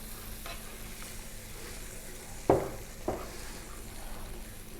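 Coconut milk poured into a pan of fish masala sets off a steady soft sizzle, with two sharp splashing bursts close by partway through.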